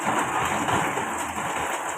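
Steady rain falls continuously, hissing on surfaces, with no other sounds.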